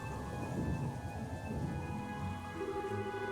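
Steady rain with rumbling thunder, a constant wash of falling drops over low rolling booms that swell and fade, with a faint tonal hum running underneath and no voices.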